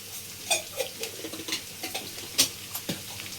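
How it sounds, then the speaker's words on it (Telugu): Mustard seeds and other tempering seeds crackling in hot oil for egg curry, with a steady faint sizzle broken by sharp pops and clicks from the seeds. "ఇవో తాలింపు గింజలు కూడా వేసుకుందాం"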